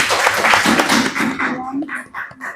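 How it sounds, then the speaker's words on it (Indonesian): A class group applauds students after a group's presentation, a dense burst of clapping that thins out as a voice speaks over the tail end. "Oke, kasih tepuk tangan teman-teman."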